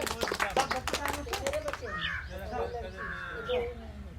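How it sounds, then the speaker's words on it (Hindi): Village children clap in a quick, dense burst of handclaps lasting under two seconds, followed by several young voices calling out at moderate distance. "ताली बजाओ"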